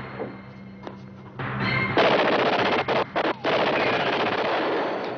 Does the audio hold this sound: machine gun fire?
yes